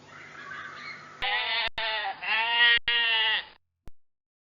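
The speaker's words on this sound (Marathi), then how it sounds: "मेंढी." A sheep bleats in a few loud, close, wavering calls separated by brief breaks, preceded by faint background murmur and ending in silence.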